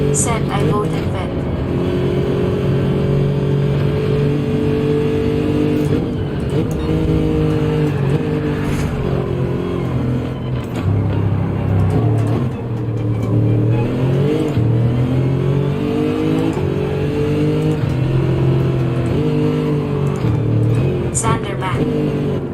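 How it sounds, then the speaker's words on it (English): Lexus race car engine in Gran Turismo 7, a steady loud drone with rising and falling revs as it accelerates and shifts, with people talking over it throughout. "the Lexus sounds so good"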